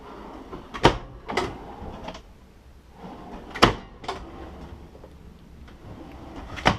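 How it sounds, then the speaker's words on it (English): Full-extension drawers with glides in a 2015 Airstream Flying Cloud 25FB travel trailer being opened and closed, giving several sharp knocks and thuds spaced unevenly over a few seconds amid soft rolling and rattling. "All full extension drawer glides."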